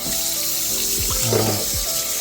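Water from a tap runs steadily into a pot for Vietnamese crab noodle soup, a continuous close splashing and gurgling stream.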